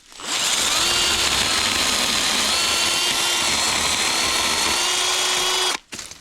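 A cheap powered saw from Temu cuts through a piece of oak about an inch and a half thick, giving a loud, continuous high-pitched whine with a strained motor tone that holds for several seconds and then cuts off abruptly.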